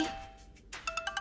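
A phone rings in a Telugu TV serial scene. A brief electronic tone fades, then a quick run of bright, evenly spaced ringtone beeps follows, fairly quiet and with no talk.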